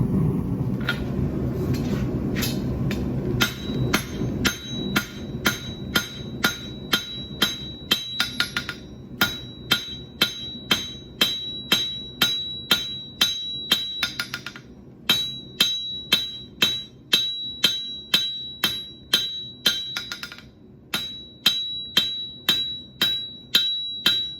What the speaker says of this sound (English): It's in, it'll get hot, we'll pound on it, heat, beat, repeat till you got what you need.